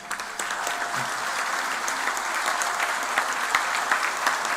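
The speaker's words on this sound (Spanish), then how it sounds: "recibamos con un fuerte aplauso al ingeniero Daniel Martínez" An audience at an election-season event gives a warm welcome to engineer Daniel Martínez, with dense, continuous clapping from a sizeable crowd at a steady level, sharper claps popping out here and there.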